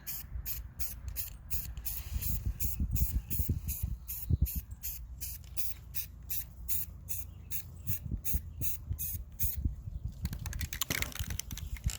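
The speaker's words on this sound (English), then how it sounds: "spray the yellow." Rapid, rhythmic short hissing bursts of a spray can applying yellow paint to a wooden sunflower sign, repeated many times in quick succession, with a longer spray near the end.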